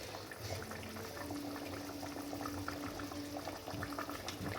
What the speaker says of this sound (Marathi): आता थोडंसं मंद आचेवर उकळू द्यायचं.